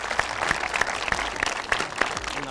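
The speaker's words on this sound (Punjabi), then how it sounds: "ਬਹੁਤ ਵਧੀਆ ਜ਼ੋਰਦਾਰ ਤਾੜੀਆਂ ਵੀਰਾਂ ਜੀ" Audience applause at a college show, steady clapping at close range with sharp individual claps standing out from the crowd.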